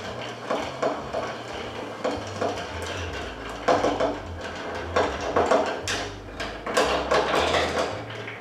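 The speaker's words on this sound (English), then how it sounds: "You don't need to shake it, you're just gonna give it a quick stir." Bar spoon clinking and scraping against a glass while stirring a coffee cocktail of vodka and Kahlua, a run of quick, close, irregular metallic ticks with no talk over it.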